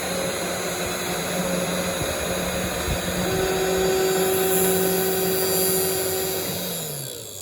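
A FOXAlien 4040-xe CNC machine carving, its spindle and cooling fan giving a loud, steady whirring drone with a constant tonal hum that holds for several seconds, then eases slightly at the end.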